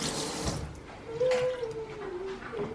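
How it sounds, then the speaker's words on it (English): An automatic water tap runs in a Tokyo apartment bathroom, a soft steady stream of water splashing into a sink, fairly faint with a brief tonal whine partway through. "And then there's automatic tap."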